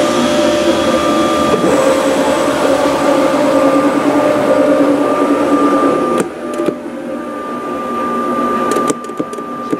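A Gerber cutting machine slices carpet for an early Porsche 911, a steady loud mechanical whir with a tonal hum, briefly dropping and shifting near the end with a few clicks.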